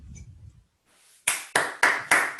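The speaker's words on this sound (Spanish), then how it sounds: "Aplausos para ustedes, chiquillos" A class of programming-seminar students claps in unison, five sharp, evenly spaced claps after a short pause, close and clear with no talk over them.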